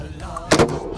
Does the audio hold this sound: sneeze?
no